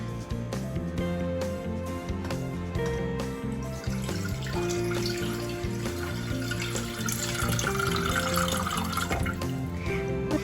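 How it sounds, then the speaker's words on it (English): Milk pours into a pan in a kitchen, a steady liquid splash and trickle for about ten seconds, with background music playing underneath. "Now we are going to pour some milk."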